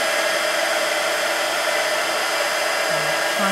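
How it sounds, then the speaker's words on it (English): A heat gun held about an inch from a card blows steadily to dry stencil medium, a constant close, loud rushing whoosh with no break for the whole stretch. "I'm about an inch away from the card with the heat gun, just to help it."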